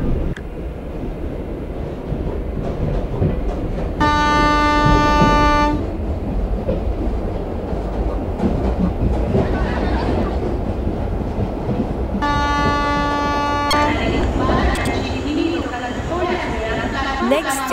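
A Mumbai local train in the Indian Local Train Simulator game rumbles along continuously, sounding two long horn blasts several seconds apart over the running noise, with voices faintly present.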